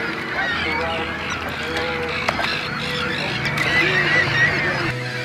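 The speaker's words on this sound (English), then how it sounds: "I hate seagulls." Gulls call in harsh, honking squawks over a steady low rumble of wind or a boat, near and fairly loud for several seconds outdoors by a lake, with someone talking at times.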